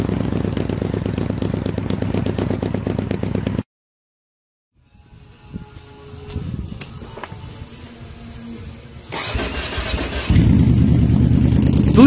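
A Yamaha VMax 1700 motorcycle with loud Voodoo exhausts runs in a heavy, pulsing idle, cuts out to silence, then restarts with a rising rumble and settles into a loud, steady idle up close.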